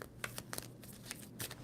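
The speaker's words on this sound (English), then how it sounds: "2 more shuffles for Capricorn." A deck of tarot cards is shuffled by hand in a quiet room, giving soft, close riffling and flicking taps at an irregular pace.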